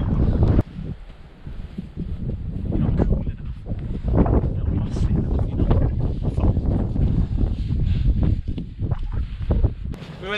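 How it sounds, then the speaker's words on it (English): Strong gusty wind roars and buffets the microphone continuously, loud and rough throughout, with faint voices underneath. "That is really windy."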